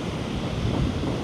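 Rough sea waves wash onto a beach in Pattaya, a continuous roaring surf with wind noise buffeting the microphone, steady and fairly loud with no talking.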